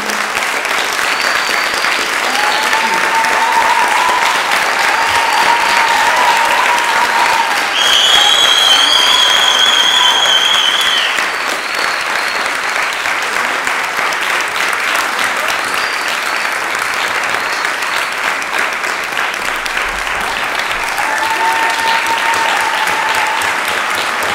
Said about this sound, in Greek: το χειροκρότημα.